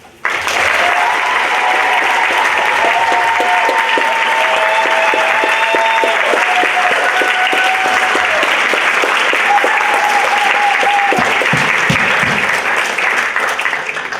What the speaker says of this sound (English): help me give a big round of applause to our Spirit of Sport Award winner